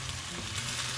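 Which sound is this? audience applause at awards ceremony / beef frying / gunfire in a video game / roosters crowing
beef frying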